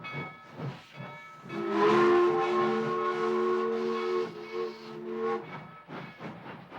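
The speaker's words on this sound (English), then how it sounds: "When Algie and Johnny's train arrived in Fayetteville, Arkansas" A steam train whistle blows in a long sustained chord as the train arrives in Fayetteville, Arkansas, rising loud and holding for several seconds before cutting off, with chugging and hiss around it.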